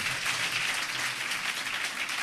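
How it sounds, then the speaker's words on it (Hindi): Audience applause fills a hall as a soft, dense wash of clapping that runs evenly throughout, moderately distant and without voices over it. "देखें, ताली बजानी है तो दिल से।"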